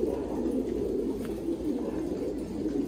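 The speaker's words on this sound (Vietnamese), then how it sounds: "Đây là bồ câu thổi kèn." Trumpeter pigeons coo in a pen, a low continuous rolling murmur of many birds close by, steady and unbroken with no talk over it.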